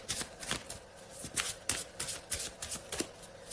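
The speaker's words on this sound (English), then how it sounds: "let me go ahead and draw some clarifying love cards for you" Tarot love cards being shuffled at close range, a brisk run of soft papery riffles and slaps repeating in quick bursts with no talking.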